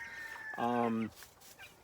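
A Cornish chicken, white-laced red, gives one short, loud clucking call close by, set against a quiet coop with faint rustling before and after.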